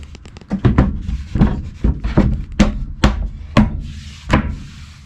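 Wooden floor panels in a van being built as a detailing van are dropped and slotted back into place, giving a series of about ten close, loud hollow knocks and thunks with light scraping between.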